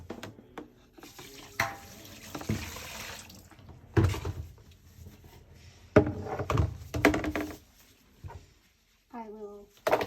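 Water sloshes and splashes in a bucket as an item is rinsed during animal feeding and watering chores, in several uneven bursts close by, with a voice speaking briefly near the end.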